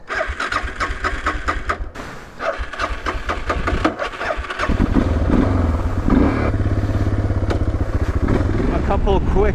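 An adventure motorcycle at a camp on a forest trail cranks for a few seconds, then catches and settles into a loud, steady idle close by. Voices talk during the start.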